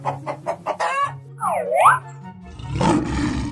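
A cartoon lion roar in a children's animal video bursts out loud and gravelly near the end, following a run of clucking and a rooster's crow.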